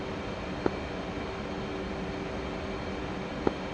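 The twin jet engines of an F/A-18C Hornet in the DCS flight simulator give off a steady, even cockpit roar, broken by two faint clicks, with no talk.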